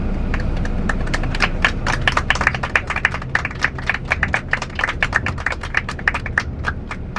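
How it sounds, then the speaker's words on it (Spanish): Passengers on a Marcopolo G8 coach bus from Santiago to Buenos Aires clap along together, sharp close claps in a loose rhythmic patter that carries on for several seconds with little else heard. "Les pido un fuerte aplauso para darles todas las energías"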